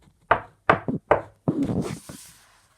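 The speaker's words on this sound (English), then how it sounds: "there was a knock at the back door." Knocking at a wooden back door: three sharp raps spaced evenly apart, then a fourth hit followed by a brief scraping rustle, clear and close in a quiet room.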